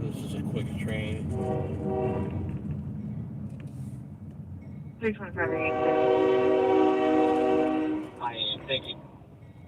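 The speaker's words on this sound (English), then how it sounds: "I hope this is a quick train." A train blasts a loud, sustained horn for about three seconds at a crossing near 10th Street during a police vehicle pursuit, over a steady rumble of passing rail cars, with radio chatter and voices talking throughout.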